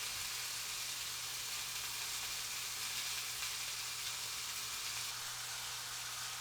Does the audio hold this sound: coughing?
no